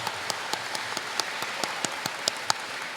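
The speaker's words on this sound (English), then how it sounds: "Let's give them a round of applause" Gala banquet audience applauding its sponsors, a steady stream of clapping from a crowd with a few sharper individual claps standing out.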